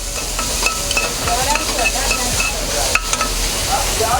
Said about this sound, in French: Là, nous incorporons nos oignons hachés finement. On les fait revenir.